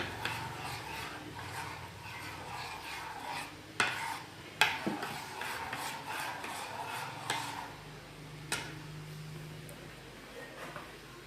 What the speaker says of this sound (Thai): แล้วก็คนให้เข้ากัน